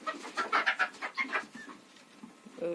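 A young bantam rooster clucks and chirps in a quick run of short calls nearby, then quieter peeps follow.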